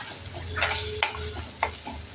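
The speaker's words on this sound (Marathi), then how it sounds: "तो आपण छान परतून घेऊ, कारण त्याचा लसूणचा आणि याचा कच्चेपणा जाण्यासाठी" Green chilli, garlic and coriander thecha sautéing in a pan, a soft steady sizzle broken by a few sharp spoon scrapes and stirs against the pan, close with no talking.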